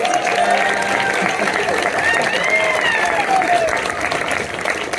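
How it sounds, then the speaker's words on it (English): A premiere audience in Los Angeles applauds and cheers for the film Rally Caps, dense, steady clapping filling the room from start to finish, with whoops and scattered voices rising over it. "can we have a round of applause for Carson?"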